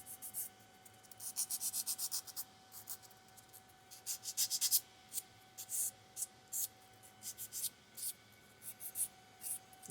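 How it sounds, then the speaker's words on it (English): A nail file shapes a small plastic Tic Tac container, producing short, faint, crisp scratchy strokes in quick bursts with brief pauses between them, close to the listener. "getting like a nail file and just gently and slowly shaping those just a little bit"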